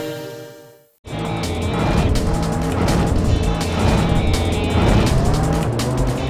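Engines roar in the Ubisoft Montréal racing video game Speed Devils. After a brief quiet moment, a loud, continuous revving starts, with layered engine tones and some tire noise, and no voices.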